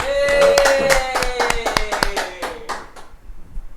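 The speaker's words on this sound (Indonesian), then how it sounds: "Tepuk tangan." A small group of people clapping their hands to welcome a guest, a run of distinct sharp claps close by that thins out and fades over about three seconds, with a sustained tone in the background.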